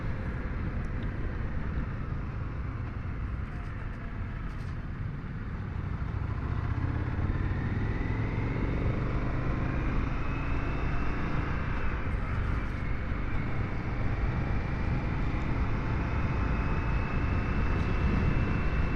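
Indian FTR1200 S motorcycle ridden on a road around El Cajon, California, its engine a steady continuous drone with rising and falling pitch as it accelerates, heavy wind rumble throughout, no talking.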